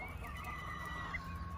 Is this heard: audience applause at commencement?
no